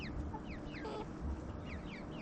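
Hens give a sharp, agitated clucking and squawking warning call over a busy, steady backdrop of chirping birds outdoors.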